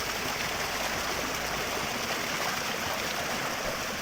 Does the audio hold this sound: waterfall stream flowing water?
yes